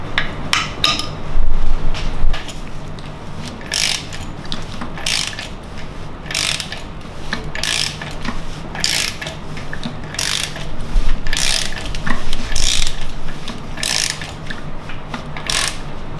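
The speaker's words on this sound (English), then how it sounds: "we're going to rotate the crankshaft 2 times" A ratchet turns the crankshaft of a BMW N62 engine during timing chain work, giving bursts of clicking pawl strokes at a steady rhythm, each pull followed by a brief pause, close and loud.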